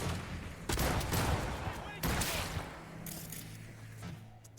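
Gunfire rattles through a firefight in Cyberpunk 2077: Phantom Liberty, with repeated volleys of bursts and heavy blasts at moderate loudness and a voice talking beneath the shooting.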